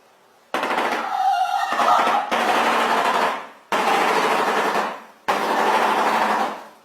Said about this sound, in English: Shoebill.